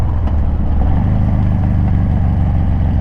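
Up close, a Harley-Davidson Dyna fitted with a Thunder Header exhaust idles in a loud, steady, low throb that runs without a break.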